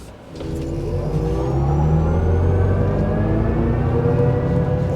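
A 2024 Chevrolet Silverado EV RST First Edition electric pickup accelerates hard, with a steady rising whine and multiple climbing tones over a low drive rumble. The sound is loud and sustained, with no talk.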